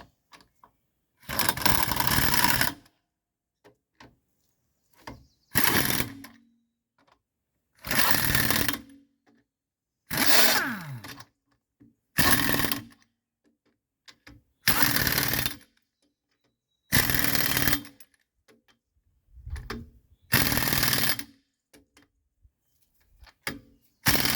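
Tightening wheel bearing bolts with a 19 mm socket on a 2007 PT Cruiser: about eight loud bursts of a rapid whirring impact or power tool, each one to two seconds long, separated by short silent gaps.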